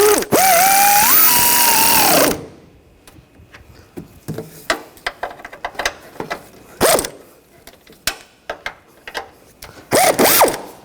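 Front strut assembly bolts on a 2014–2020 Nissan Rogue are run down, starting with a loud, whining burst from a power tool, then a series of quick ratcheting clicks in uneven bursts, ending with another short whir.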